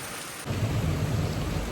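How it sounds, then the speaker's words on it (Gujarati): Steady rain hisses, then a deep rumble of thunder rolls in and sustains beneath the downpour, loud and close. "વીજળીની કડાકડ બહુ થાય છે"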